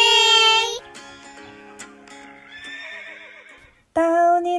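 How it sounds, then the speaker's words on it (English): A horse at a farm paddock whinnies loudly twice, one long neigh at the start and another at the end, with softer tonal music between them. "The horses are thirsty."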